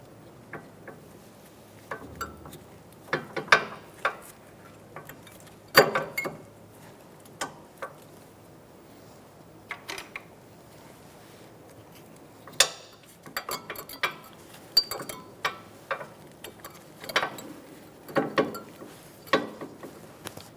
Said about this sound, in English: Now we're going to put the rest of our caliper together like this.